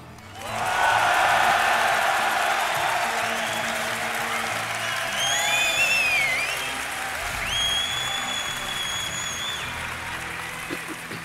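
A large crowd at a StarCraft tournament bursts into loud, sustained applause and cheering that swells, dips slightly, then holds, with scattered whistles and shouts rising above the clapping.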